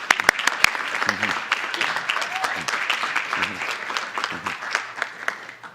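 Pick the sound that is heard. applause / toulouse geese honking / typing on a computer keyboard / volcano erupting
applause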